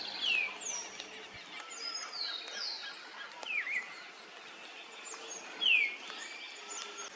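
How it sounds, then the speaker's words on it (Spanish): Birds call from the trees in Chaco National Park, with a few sharp chirps and whistles spaced apart over a quiet background. The calls come at moderate distance and no one speaks. "En las ramas de los árboles siempre hay aves,"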